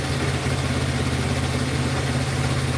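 Scooter engine idling as it warms up, a loud, close, steady putter with an even low throb and no changes in speed.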